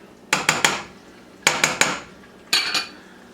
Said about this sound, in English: I've been constantly stirring this throughout that time because I don't want the bottom to burn